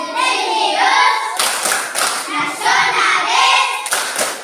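A classroom of children claps in rhythm during the 'tepuk merdeka' clap chant at an Indonesian school, loud bursts of hand claps mixed with chanting voices.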